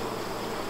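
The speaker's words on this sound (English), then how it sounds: "These are all bees putting honey into those" Honey bees buzz steadily around an open honeycomb while they fill the cells with honey, a continuous, fairly faint insect drone that holds unbroken for the whole short moment.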